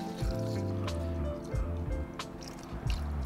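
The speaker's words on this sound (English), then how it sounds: "Pour it in, no splashing." Cleaning chemical poured into a small container holding skateboard bearings, giving close liquid trickles and drips with a few soft splashy gulps over a steady low background.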